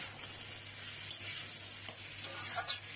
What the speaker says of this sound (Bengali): এবার ভালো করে একটু নেড়ে নিতে হবে